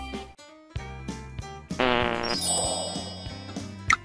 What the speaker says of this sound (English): Farting on the beach.